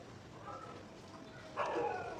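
A dog gives a short bark or yelp partway through, fairly distant, over a low background hum.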